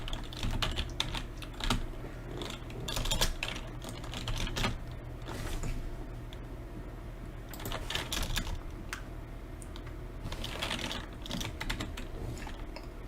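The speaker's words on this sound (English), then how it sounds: "I'm typing Skybit, XRP." Typing on a computer keyboard, close and clear, with rapid bursts of clattering keystrokes separated by short pauses, running alone throughout.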